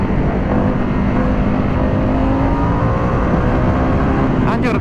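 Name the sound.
Harley-Davidson Pan America motorcycle accelerating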